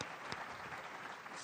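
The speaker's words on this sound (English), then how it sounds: "Give them a big round of applause." Graduation ceremony audience applauds PhD candidates coming forward, a brief burst of steady clapping from a crowd, fairly faint and even.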